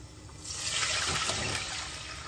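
Water poured into a cooking pot holding garlic and carrots, a steady rushing splash that swells and holds for about two seconds, close and moderately loud.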